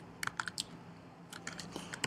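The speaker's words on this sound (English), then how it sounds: "It's like 15 characters of typing." Typing on a computer keyboard during a front-end web tools tech talk: a short burst of sharp key clicks, a pause, then another quick run of taps, close and fairly quiet.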